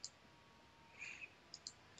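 Two or three short, faint computer mouse clicks from a right-click and refresh on a PC, crisp and close, alone with no talking.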